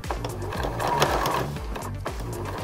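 Close, steady sewing machine running fast rhythmic stitches while sewing binding onto a baby bib, a continuous mechanical chatter without speech.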